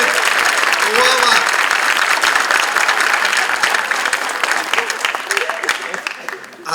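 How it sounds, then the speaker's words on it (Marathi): An audience at a student rhythm recital gives sustained applause for the cameraman, a thick, continuous patter of many hands with a few voices mixed in, slowly thinning toward the end. "एकदा आपल्या कॅमेरावाले काका जे आहेत त्यांच्यासाठी टाळ्या"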